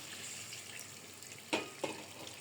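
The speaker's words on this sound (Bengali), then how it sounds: "এখন একটু পানি দিয়ে দিব আমি।" A little water poured into a pan of chicken-skin and eggplant curry, a low steady hiss with two short splashy bursts near the end, fairly faint and with no talking.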